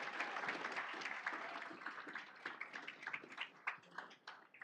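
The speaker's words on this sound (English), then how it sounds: "One more round of applause for some of your student leaders." A round of applause for student leaders at a new student orientation, sustained clapping from a gathered crowd, fairly quiet and tapering into scattered claps.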